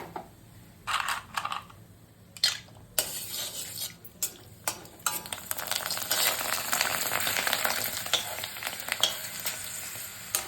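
Puffed tube-shaped chips sizzle in hot oil with a steady, rising crackle, while metal utensils clink and scrape against the pan now and then.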